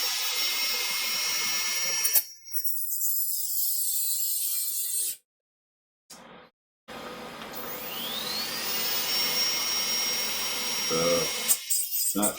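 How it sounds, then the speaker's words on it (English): A rotary tool fitted with a cutting wheel slices through thin aluminum, whining at high pitch in two long bursts with a short gap where the motor stalls and cuts out, then restarts and keeps cutting. "Not sure the cutting wheel is, I guess, the best accessory to use with the rotary tool, as yeah, keeps shutting off, cutting some really thin aluminum."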